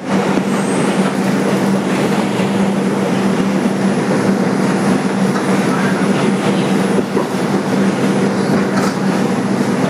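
Inside a 2001 Bombardier subway car on the IRT 2 train White Plains Road local, a constant loud roar and hum of the moving train lasts throughout, with light rail clatter and no voices.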